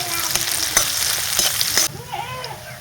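Onion, garlic and green chili hit hot oil tempered with black cumin, a loud close sizzle with scraping stirs that cuts off abruptly, leaving faint background murmur.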